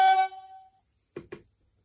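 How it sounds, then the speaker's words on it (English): An Accurascale class 37 model locomotive's DCC sound decoder gives a short high air horn blast that quickly decays, followed by a man's brief speech. "Function 12 is short high air horn."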